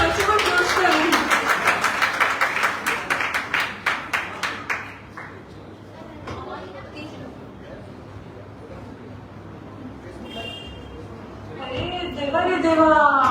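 Devotees at a Vrindavan kirtan clap along in a quick, steady rhythm for about five seconds before the clapping fades, with people talking and chuckling afterward.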